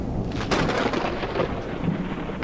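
A thunderstorm rages in a Backrooms video game, with a loud crack of thunder rolling into a dense rumble over steady heavy rain. The storm stays close and continuous, and no one talks over it.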